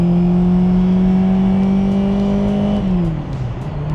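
An original, rare Lancia 037 Stradale (chassis 33) is driven with its engine droning loud and close at a steady pitch. The note then drops and settles lower near the end, with no talk over it.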